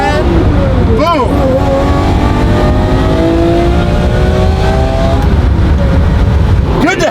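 A manual-gearbox Lamborghini Murcielago V12 revs hard, rising through a long first gear with a sweeping howl, a brief dip, then another climb, loud and close with excited voices mixed in.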